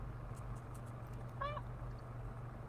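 A single short cat meow rises once, faint and somewhat distant, over a steady low hum in an otherwise quiet room.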